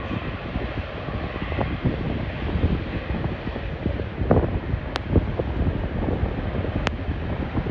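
A wide-body airliner with huge engines passes near Schiphol, a broad, steady engine roar mixed with gusty wind buffeting on the microphone and a few sharp clicks.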